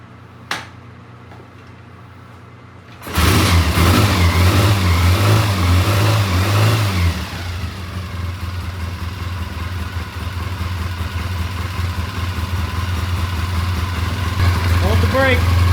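A Triumph T140V motorcycle engine kicked over once, then catching with a loud burst and settling into a steady, throbbing idle up close with occasional revs, alone without talk.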